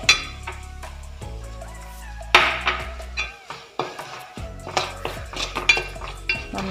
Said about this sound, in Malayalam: മുളക് പൊടി ഇട്ട് കൊടുക്കാം. മഞ്ഞൾപ്പൊടി ഇട്ട് കൊടുക്കാം. നന്നായിട്ട് മൂക്കട്ടെ.